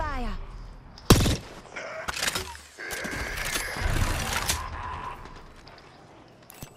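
Scattered gunshots crack in Apex Legends, a few sharp bursts spaced over several seconds amid game clatter and talking voices.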